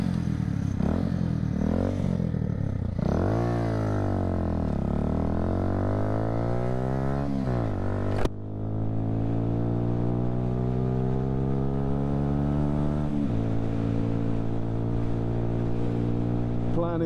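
Harley motorcycle engine starts with a brief crank and catches, settling into a loud, close, steady idle with rising and falling revs and a lumpy throbbing rhythm; another short blip follows midway before it runs on evenly.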